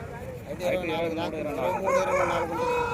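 A rooster crows nearby at a poultry market in Gudur in a long, wavering call, with voices of people audible in the background.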